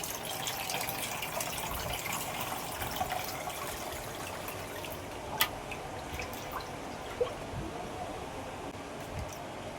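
Water trickles and drips through a sieve in a home kitchen, a soft continuous flow with occasional sharper drops and splashes, close but fairly quiet, no voices.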